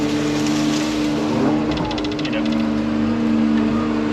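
A Pothole Pro Hydradig excavator's engine runs steadily and loudly close by, a constant droning hum with a faint higher whine riding on top throughout.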